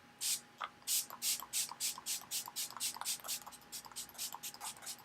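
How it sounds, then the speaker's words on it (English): A bottle of Fix Plus setting spray spritzes rapidly onto a face over and over, about fourteen short hissing bursts in a quick, uneven rhythm, close up with no talking. "what I'm going to do is spray my face with Fix Plus"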